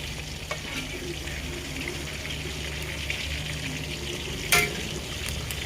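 Chicken pieces frying in a pan hiss and sizzle in a loud, continuous crackle, with one brief sharp clatter partway through.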